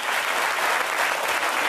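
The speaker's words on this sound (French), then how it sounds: "On les applaudit." Studio audience on a French TV variety show applauding a touring troupe, a dense, steady wash of clapping filling the whole moment with no break.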